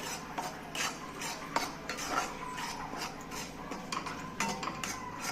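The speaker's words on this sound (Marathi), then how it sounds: "परतला पाहिजे असं सारखा खालीवरी करून, नाहीतर तो खाली चिटकेन, करपून जाईल।" Fine semolina being stirred and roasted in a pan, a spoon scraping and clinking against the metal in a steady, continuous rhythm with scattered louder knocks, close and alone without talk.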